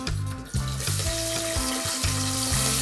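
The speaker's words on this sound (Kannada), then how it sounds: "ಎಣ್ಣೆ ಕಾದ್ಮೇಲೆ ಹ್ಞೂ, ಈರುಳ್ಳಿ ಹಾಕ್ಕೊಳ್ಳೋಣ." Chopped onion hits hot oil in a pan for aloo chops, giving a loud, steady sizzle with bright crackling and a few clinks of stirring, and no voices.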